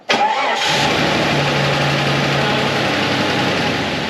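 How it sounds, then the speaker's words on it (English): A Jeep 4.0 engine cranks briefly, fires and settles into a loud, steady idle with a light ticking lifter noise, heard close up with no talking. "It's probably gonna crank up and miss."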